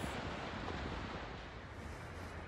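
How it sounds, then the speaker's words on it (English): Ocean waves wash steadily against the wharf at Salem, Massachusetts on a cold night, a continuous broadband rush mixed with wind noise buffeting the microphone, with no voices. "It's a little atmospheric noise here, but you can hear the waves."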